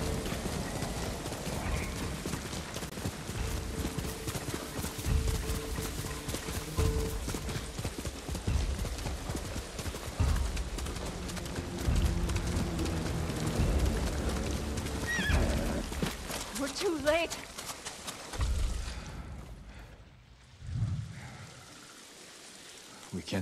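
In the samurai game Ghost of Tsushima, a horse's hooves clop steadily with a whinny partway through, set against a dense ambient bed of wind, water and music, the sound thinning out toward the end.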